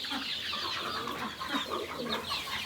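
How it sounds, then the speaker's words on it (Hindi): Chickens and a rooster cluck continuously in a village yard, a busy, fairly steady flock heard at moderate distance with no talk over it. "मुर्गी इधर है, मुर्गा बाहर है"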